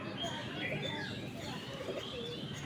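Pigeons coo softly in a busy outdoor scene, their low calls mixed with chirps and a steady background murmur of voices and ambient noise throughout.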